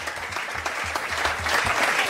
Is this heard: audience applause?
yes